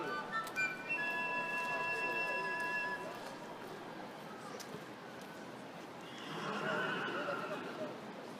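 Horses in the Queen's carriage house in London let out a whinny early on, with a second, fainter neigh toward the end, over a busy background of crowd murmur and footsteps.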